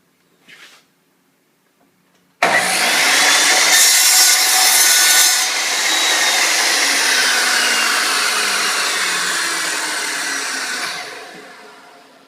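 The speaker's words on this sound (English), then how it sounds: "Now we're going to cut that down." A saw cuts through walnut stock for a squirrel call in one long, loud, steady stroke that fades toward the end, after a brief faint knock and a pause.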